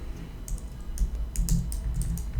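Keys clatter on a computer keyboard as commands are typed, a quick irregular run of clicks over a steady background hum, with no talking.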